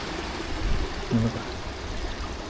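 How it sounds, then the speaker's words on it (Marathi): A small stream of water flows through a Konkan village with a faint, continuous low trickle and gurgle, heard from a short distance with a soft bump midway. "इकडं बघा पर्याला पाणी आले"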